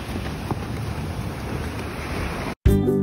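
Sea surf washes onto the shore at Sorrento, Italy, a steady broad rush of breaking waves mixed with gusty wind buffeting the microphone, cut off abruptly near the end.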